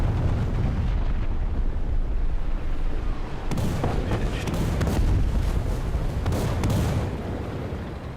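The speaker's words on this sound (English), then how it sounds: "Let's hope we can get through here before the artillery hits." Artillery fire in a war video game booms as a continuous low, heavy rumble, with several sharper blasts cutting through in the middle.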